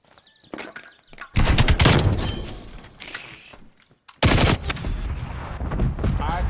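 Bursts of heavy automatic gunfire from Call of Duty: Black Ops Cold War, loud and dense, broken by a short lull before another intense volley; faint talk in the gaps.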